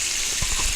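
Cold water sprays from a kitchen tap onto grapes in a strainer, a steady hissing rush with a few soft splashy thumps as the stream strikes the fruit.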